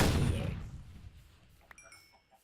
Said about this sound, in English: I like the sound it makes. Boom. Like a hand cannon.